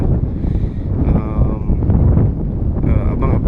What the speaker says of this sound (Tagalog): So medyo malakas yung hangin